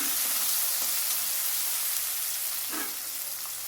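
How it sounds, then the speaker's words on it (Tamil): Chopped onion and green chilli sizzling in hot frying oil, a steady close crackling hiss with a couple of brief stirring scrapes. "ஒரு பெரிய சைஸ் வெங்காயம் ஒரு பச்சை மிளகா கட் பண்ணி வச்சுருக்கேன் பொருசாக அதை போட்டுக்கலாம்"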